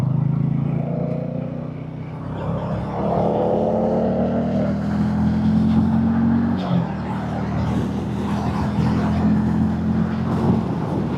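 Hero Hunk 440 motorcycle engine pulling hard in third gear up a dual carriageway, a steady loud drone rising in pitch with wind rush, with a brief dip midway before it climbs again.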